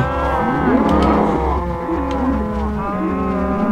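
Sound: cows mooing in a video game

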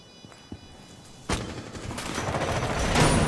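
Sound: gunfire from a video game

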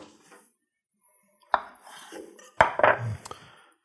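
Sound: knife cutting hard-boiled eggs into quarters

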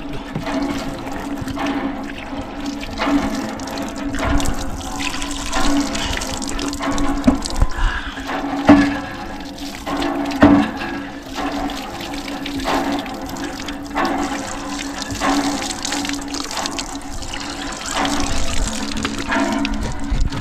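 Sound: fresh water flowing from a borehole

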